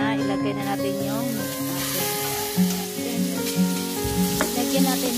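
Food sizzles and fries steadily in a hot pan while pork and noodles are being cooked for lome. The sizzle runs continuously under louder background music and voices.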